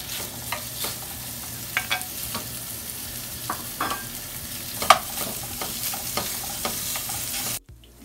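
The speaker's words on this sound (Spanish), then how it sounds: "Miren, ya está frito el chorizo." Chorizo frying in a little oil in a hot pan gives a continuous close sizzle, broken by scattered light knocks and scrapes of a spoon, before cutting off abruptly at the end.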